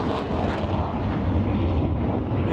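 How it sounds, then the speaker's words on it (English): Swedish military jets, an AJS 37 Viggen among them, depart from the far end of the runway at the RAF Waddington airshow, a broad continuous jet roar holding steady throughout with no voices. "here go the Swedish jets from the other end departing"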